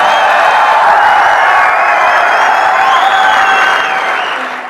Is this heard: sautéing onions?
no